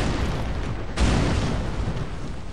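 A meth lab blown up in the video game Condemned 2, heard as a loud explosive burst with a sustained roaring rumble that carries on through the whole clip.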